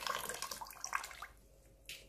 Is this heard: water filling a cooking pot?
yes